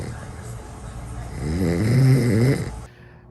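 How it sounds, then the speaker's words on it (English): A worn-out man snoring loudly in his sleep: a low rumbling breath builds into one long, rough, vibrating snore, then cuts off. "I did not know I snored that loud"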